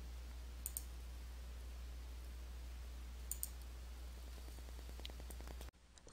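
Soft, close mouse clicks on the Save button in Sage 50 accounting software: a couple of paired clicks over a steady low hum, then a faint run of quick ticks before the sound cuts off abruptly.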